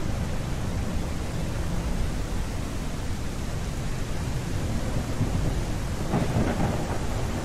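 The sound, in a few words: thunderstorm with thunder and rain, from the video game Primal Earth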